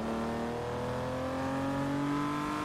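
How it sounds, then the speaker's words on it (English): An upgraded 12-cylinder race car on an Italian prototype road test in Forza Motorsport 3 holds a steady, droning engine roar with a slowly climbing pitch, loud and continuous throughout with no speech. "Oh no, this car's upgraded, Xeno, that's why it doesn't sound right"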